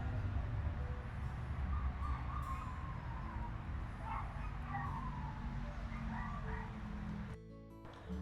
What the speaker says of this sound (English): Those dogs are going insane.